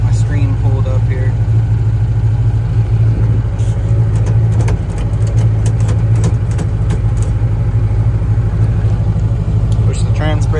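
Turbocharged Foxbody Mustang engine idling, a loud steady rumbling drone with a slight dip and recovery midway, under continuous close engine noise.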